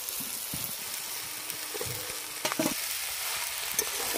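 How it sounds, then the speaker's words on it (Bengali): Fried potato and cauliflower pieces stirred into hot frying masala for a dry lote fish dish make a soft constant sizzle with a few clattering spoon strokes and scrapes, and no voices are heard. "মশলার সাথে সবজিগুলো ভালো করে মিশিয়ে দিচ্ছি।"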